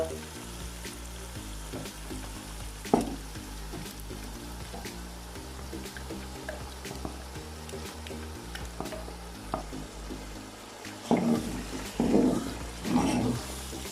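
Saag greens frying and sizzling in a pan, with occasional clinks and louder stirring scrapes toward the end, close and without talk.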